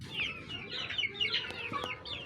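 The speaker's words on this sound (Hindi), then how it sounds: "ये हमारा मुर्गा देखें" A rooster clucks in a row of short, soft, choppy calls, quiet and slightly distant against a low background hum.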